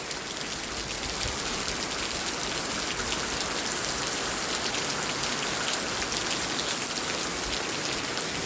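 Heavy rain pours down steadily for two days running, a loud, dense and unbroken hiss of drops hitting surfaces close by, with no voices.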